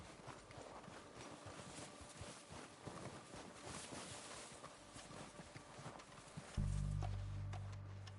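Horses approaching with steady clip-clop hooves in a Red Dead Redemption 2 game scene, layered over ambient game sound, before a loud low rumble swells in near the end.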